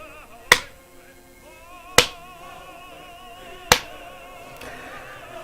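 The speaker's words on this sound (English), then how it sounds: "We have the Kusenbo clap emote" Three sharp, evenly spaced clap hits from the Kusenbo clap emote in the Smite video game, each ringing out briefly over a quiet tonal backdrop of game music, followed by a fainter fourth tap.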